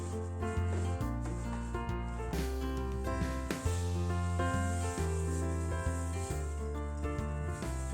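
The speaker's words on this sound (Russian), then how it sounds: "Измельчать я буду при помощи скалки, так как мне необходима более крупная крошка." Cookies are crushed with a wooden rolling pin in steady repeated rubbing and grinding strokes, close and continuous, with faint crunching throughout.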